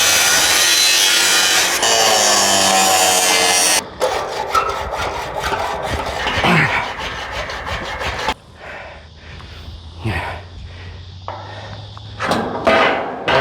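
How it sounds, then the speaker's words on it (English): A wooden bottom plate being cut off with a hand saw while building a retractable tiny home, loud steady rasping strokes that later break into a quicker series of short, separate saw strokes and scrapes, no talking. "I've just got to measure it out and then cut this bottom plate off."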